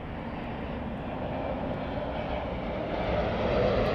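A Boeing Dreamliner jet flies past at LAX, its steady, loud engine roar holding broad and continuous and swelling slightly toward the end.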